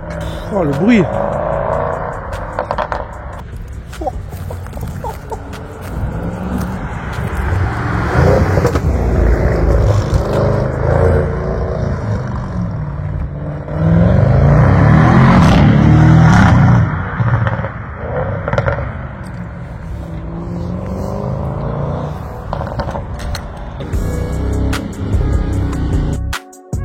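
An Audi RS6 with a full stainless steel exhaust revs and crackles with popping bursts, loud and close, while people chat over the engine noise throughout.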